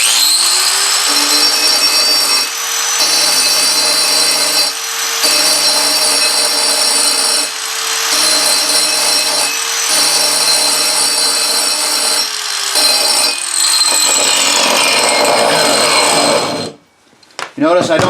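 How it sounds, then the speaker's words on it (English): A carbide-tipped SDS Max drill bit is ground on a grinding wheel, a steady whining grind in short repeated passes broken by brief pauses, ending with the wheel spinning down. "I try to do a nice even grind"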